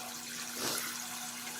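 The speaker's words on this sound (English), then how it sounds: "Nice hot shower." Warm water runs from a pump-pressurised camping shower in a soft steady spray, fairly faint and continuous, with a slight swell midway.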